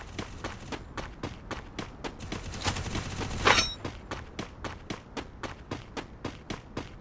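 Gunfire in the Free Fire video game, a steady string of evenly spaced shots with one louder burst in the middle, moderately loud and without talk.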